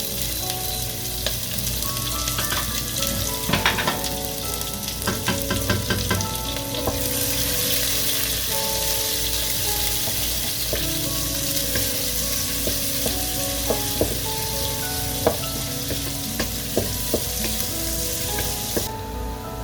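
Onion and a few cloves frying in hot oil, a steady close sizzle running throughout with occasional stirring clinks and scrapes in the pan, and no voices.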